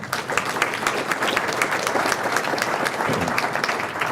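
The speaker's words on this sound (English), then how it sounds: "give him a round of applause" Panel discussion audience giving a round of applause, dense continuous clapping from many people, steady and moderately loud for the whole stretch.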